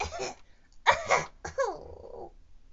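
Three short, rough bursts with pauses between them, close and fairly loud, the last one trailing off into a strained, wavering tone.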